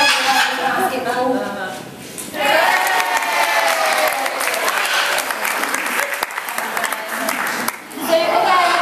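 An audience at a parrot show claps and cheers for a parrot putting a ball through a basketball hoop, loud sustained applause swelling and dipping over several seconds, with a presenter speaking over it.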